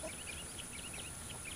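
Chickens on a homestead cluck softly and intermittently in short, faint calls over a steady background hiss, with no one talking.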